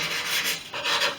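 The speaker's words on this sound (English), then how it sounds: "then just finishing it with a rub in the direction of the grain" Wood is rubbed by hand along the grain with 180 grit sandpaper while shaping a fuel tank outlet fairing, giving a close, soft, swelling scratch in one or two short strokes.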